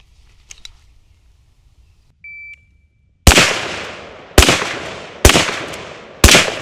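A short electronic shot timer beep sounds in near silence, followed a second later by four loud, sharp gunshots at uneven intervals.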